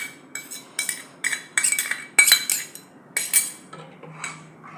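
A metal spoon stirs ground spice paste into buttermilk for kadhi in a bowl, clinking against the sides in quick, uneven bursts of sharp taps, close and steady with no talk.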